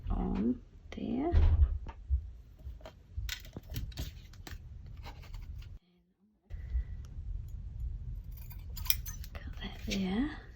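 Scissors snipping through paper scraps during collage and journal-card crafting, a few short close cuts scattered between soft handling noises and quiet talk.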